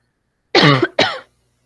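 Two sharp coughs from a single person at a debate on internet platform regulation, close and loud, separated by a brief gap, with no talk around them.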